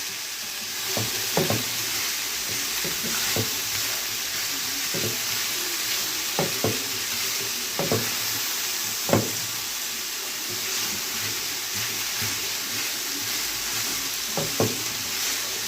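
Vegetables fry together with minced meat in a pan, giving a steady close sizzle broken by about a dozen sharp knocks and scrapes of the stirring spoon.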